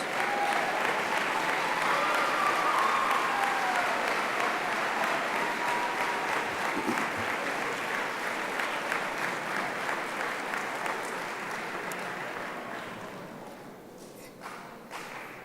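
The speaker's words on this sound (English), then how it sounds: "Let's give those students a round of applause." At an athletic awards banquet, the audience applauds scholarship-winning students with dense, sustained clapping that holds strong for several seconds, then gradually thins and fades toward the end.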